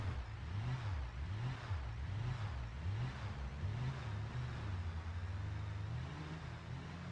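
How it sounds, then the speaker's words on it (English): A car engine revs repeatedly in a BeamNG driving game, a low rumbling tone rising and falling in a wavy pattern over a steady hiss of road and engine noise, continuous and moderately loud. "He's revving his engine and doing all kinds of weird stuff back there."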